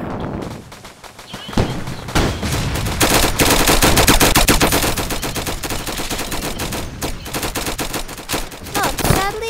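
Rapid gunfire in the video game Flag Wars, a dense stream of loud shots that keeps going almost nonstop and only thins out briefly near the end.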